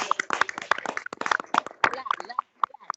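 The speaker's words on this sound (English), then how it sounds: "Round of applause, honorable members." Members of a virtual women's parliament applaud with scattered, uneven hand claps, some close and sharp, others thin and distant, tapering off into a few isolated claps at the end.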